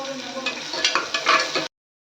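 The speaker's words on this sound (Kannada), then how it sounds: "ಈರುಳ್ಳಿ ಕಟ್ ಮಾಡಿ ಇಟ್ಕೊಂಡಿದ್ದೆ, ಅದನ್ನು ಹಾಕ್ಕೊತಾ ಇದ್ದೀನಿ. ಅದನ್ನು ಹಾಕ್ಕೊಂಡು ಫ್ರೈ ಮಾಡ್ತಾ ಇದ್ದೀನಿ" A chopped medium onion sizzles and crackles in a hot pan for a bitter gourd palya, a steady close frying hiss that stops abruptly.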